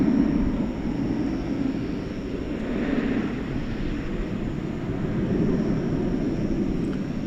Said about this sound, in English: a 7879 Dreamliner, is off to London Heathrow, Flight 154